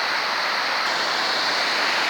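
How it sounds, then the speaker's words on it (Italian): Constant loud rush of clear water of the Tagliamento river flowing under a bridge near Braulins, a dense even hiss with no breaks, heard close up. "il rumore dell'acqua"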